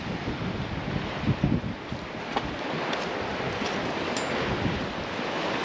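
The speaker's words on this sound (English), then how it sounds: "the water is screaming through here" Water rushes past a rocky shore at a squid fishing spot, a continuous loud churning wash with gusts of wind buffeting the microphone and a few brief splashy surges.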